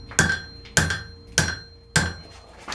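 Hammer blows on a wrench being forged into a karambit, four evenly spaced sharp ringing metallic strikes on an anvil, loud and close with a short ring after each, no talk.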